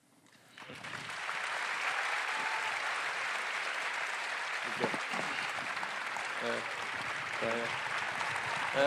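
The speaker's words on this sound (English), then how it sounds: "Yes, give them a round of applause." A round of applause swells up from an audience honoring Marine Corps veterans and participants in a storytelling performance, dense steady clapping holding at even strength, with a few brief voices surfacing near the end.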